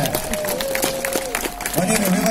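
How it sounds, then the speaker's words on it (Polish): Audience applause at a competitive bout: dense, continuous clapping and crowd noise with a thin sustained tone running through it, and voices mixed in. "Brawa teraz huraganowe!"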